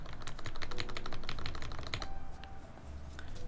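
Rapid typing on a mechanical keyboard with a polycarbonate case, its case film removed, gives a dense run of crisp clacking keystrokes that thins out into a few scattered presses near the end.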